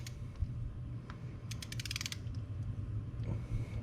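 A ratchet torque wrench tightens spark plugs on a Ford Raptor, giving off a quick burst of close metallic clicks mid-clip over steady low mechanical background noise, with a few scattered creaks and taps around it.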